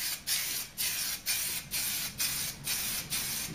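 Aerosol satin paint sprayed onto a repaired Cortina Mk3 heater box in about seven short hissing bursts with brief pauses between them, close and steady.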